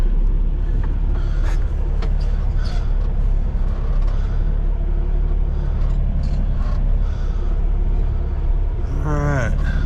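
A truck pulling a trailer of road oil rolls slowly onto a weigh scale, its engine giving a deep, steady rumble close by, with a short voice at the end.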